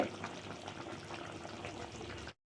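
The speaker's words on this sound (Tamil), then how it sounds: "குழம்பு நல்லா கொதிச்சிருச்சு." Brinjal gravy bubbling in a pot as it boils, a soft steady burble of popping bubbles heard close up for a couple of seconds, alone, cutting off abruptly.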